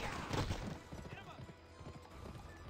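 Horse hooves clip-clop at a steady trot in the Western video game Gun, mixed with game sounds and a voice talking over them.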